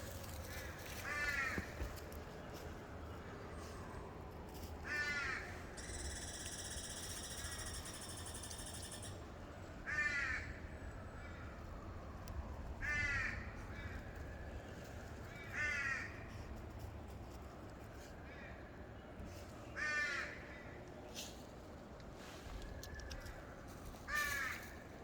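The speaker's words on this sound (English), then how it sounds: "I think that's a crow." A crow caws in repeated short bursts of harsh calls roughly every three to five seconds, outdoors on a forest walk, with a brief steady mechanical buzz in between and a low background rumble.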